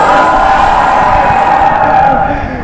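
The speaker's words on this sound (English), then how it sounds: "No, give me a flagship cheer." Loud, sustained cheering from a packed hall of Xiaomi fans at the Redmi K20 launch event, a dense wash of shouting voices that stays strong and then eases slightly toward the end.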